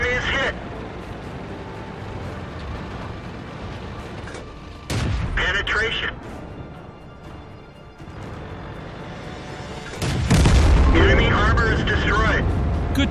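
Tank cannon fire in the game World of Tanks comes as heavy booming blasts, two or three big shots spaced several seconds apart over rumbling engine noise, with a voice speaking in between.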